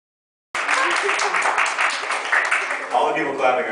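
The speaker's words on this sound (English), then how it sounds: "All the people clapping are nerd fighters" An audience of nerdfighters claps at a live Jamboread 2008 event, steady broadband applause beginning abruptly and sustained throughout, filling the room at close range.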